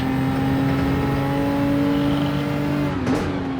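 Race cars in a racing video game, a Mustang among them, give a steady, loud engine drone at high revs that holds on and shifts slightly in pitch as the cars run close together.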